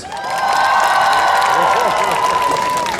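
Women in an outdoor Midsummer (Joninės) festival audience in Elektrėnai clap on cue, a loud sustained wash of applause with cheers and shouts throughout, steady from start to end.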